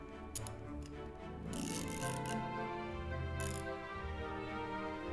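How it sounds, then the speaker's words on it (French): A small quarter-inch-drive ratchet with an offset head gives a few faint, quick clicks over a steady background hum, and no one speaks. "Un petit cliquet en carré 1/4."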